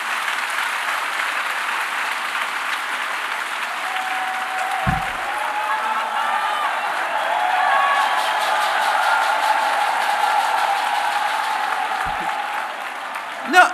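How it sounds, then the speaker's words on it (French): A French audience at the launch event of FAFCI applauds steadily for the full length, a dense, loud wash of clapping that swells a little in the middle, with faint talk or cheering underneath. "Je voudrais, avant tout, vous demander d'applaudir bien fort notre premier soutien."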